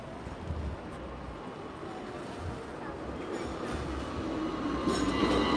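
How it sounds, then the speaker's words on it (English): Street trams roll along a busy Hong Kong street in Wan Chai with a steady low rumble and rising wheel noise, the sound swelling toward the end amid city traffic and faint background voices. "we arrived to this street where it's the street with the tram stations and the trams"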